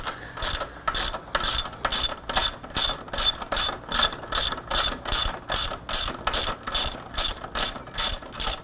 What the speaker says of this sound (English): 22mm socket, which you're going to hold on the caliper side. And then unbolt it.